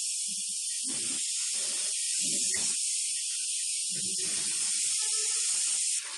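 Onion and tomato frying in hot oil, a bright steady hiss running throughout, with a voice talking underneath at intervals.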